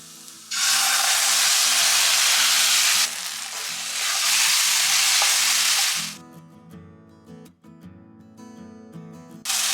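Gram flour batter hits a hot pan for cabbage thoran and fries with a loud, steady sizzle, broken by brief scraping stirs and clinks of a spoon toward the end.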